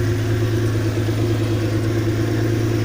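A Subaru H6 3.0 flat-six fitted in a VW Caravelle T3 idles while warming up from cold, its revs creeping upward. The steady, even hum is loud and close, with no voices.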